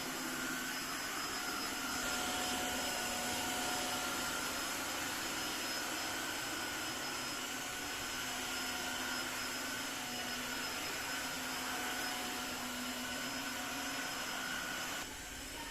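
A Tenco IFLOOR3 vacuum cleaner runs continuously at close range, a loud, steady whine and rush holding level throughout with no talk.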